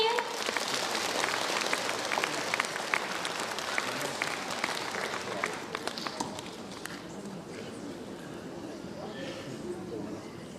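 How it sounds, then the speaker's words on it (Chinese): A concert hall audience applauds to welcome the host at an anniversary concert, a loud dense wash of clapping that thins and softens toward the end. "让我们用最热烈的掌声有请黄大同先生"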